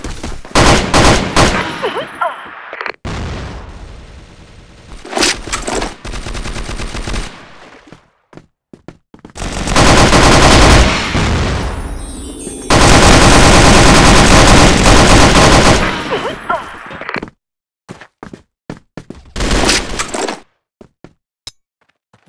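CR-21 rifle firing in the CrossFire shooter game, with repeated loud automatic bursts of varying length separated by short pauses, two long sustained volleys in the middle, and a few sparse shots near the end.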